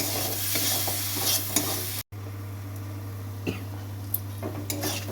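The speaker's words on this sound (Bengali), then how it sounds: "এবার মশলাটাকে ভালো করে কষে নিই কষে নিচ্ছি মশলাটা ভালো করে" Spice masala with Kashmiri chilli powder frying in a pan, with a close sizzle and steady scraping as it is stirred, a steady low hum underneath, a brief cut of silence, and occasional sharper clinks of the spoon.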